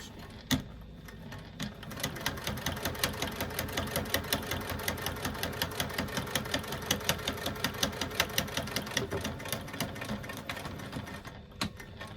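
Sewing machine stitching a zipper onto a fabric bag, a close, steady rapid chatter of the needle running continuously with a rhythmic mechanical pulse and no talking.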